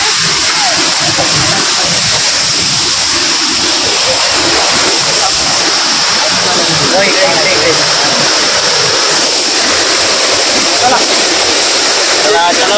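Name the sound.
small waterfalls and streams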